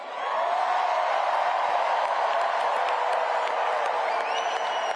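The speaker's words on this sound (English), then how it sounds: "Listen to that applause." A large crowd at a political rally applauds and cheers loudly and continuously, a dense sustained wash of clapping with scattered whoops throughout.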